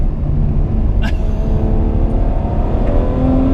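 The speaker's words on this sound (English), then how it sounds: "I'm sure you can hear those gear shifts, they're explosive" The V12 of a Ferrari 812 Superfast roars loudly at Fiorano, with a sharp crack from a gear change of its twin-clutch gearbox early on before the engine keeps pulling hard.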